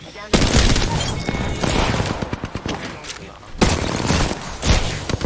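Rapid automatic gunfire from the video game Apex Legends, loud and close, coming in dense bursts with brief gaps and heavy booming impacts across the whole stretch.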